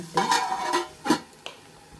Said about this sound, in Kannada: ತಟ್ಟೆ ಓಪನ್ ಮಾಡೋಣ